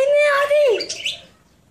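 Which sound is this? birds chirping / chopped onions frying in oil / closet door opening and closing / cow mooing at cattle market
birds chirping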